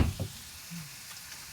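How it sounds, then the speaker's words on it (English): Onions sizzling in a hot pan as the base for a Moroccan chicken tagine, a soft steady frying hiss after a couple of brief stirring knocks at the start. "fry up the onions a bit"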